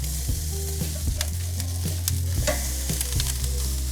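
Steak sears on a hot barbecue grill with a steady close sizzle and frying hiss, interrupted by a few sharp clicks and scrapes as the meat is moved and pressed, with no talking.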